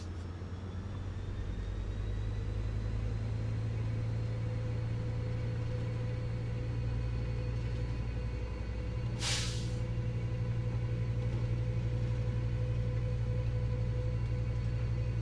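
A deep, steady train engine drone in Train Sim World 4 builds and holds as power is applied, with a brief hissing burst partway through, continuous and close.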